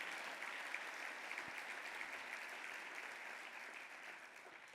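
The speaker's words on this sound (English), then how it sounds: "Let's give them all a round of applause for the important work that they do." An audience at the Women Helping Women program claps for the staff of a counseling center, a faint, even wash of applause that holds steady and thins slightly toward the end.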